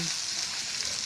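Chicken and hotdog frying in a pan sizzle steadily and hiss as they are stirred, a close, continuous crackle with no talking.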